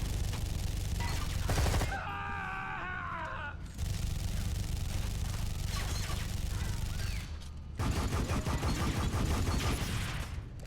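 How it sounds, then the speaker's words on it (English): A turret in a video game fires sustained rapid volleys, dense crackling gunfire in long bursts broken by short pauses and other game sounds, loud and continuous. "I don't want to stick my head up while the turret is firing"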